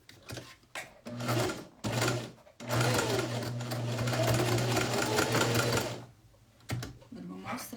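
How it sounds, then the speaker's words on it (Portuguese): A sewing machine stitches a pocket in several loud mechanical bursts, the longest run lasting a few seconds, with brief pauses between them. "Agora a gente vai acabar de costurar ele"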